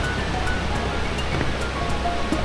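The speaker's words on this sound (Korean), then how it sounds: "이제 폭포 소리가 들리고요." Guryong Falls on Jirisan mountain in Korea, heard as a steady, broad rushing roar of falling water that fills the scene without a break.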